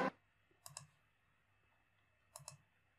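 A computer mouse clicking on a website, with two quick pairs of crisp, close, dry clicks separated by quiet room tone.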